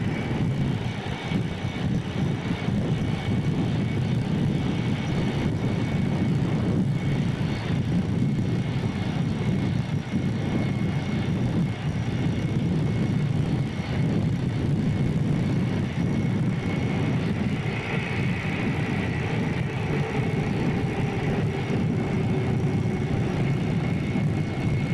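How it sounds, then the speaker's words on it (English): Loud, steady roar of an aircraft carrier's auxiliary power unit fills the flight deck as a plane's number one engine starts, a continuous dense engine rumble with rising whine, no talk. "the auxiliary power is roaring, and they're starting number 1 engine"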